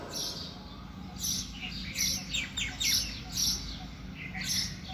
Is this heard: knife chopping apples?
no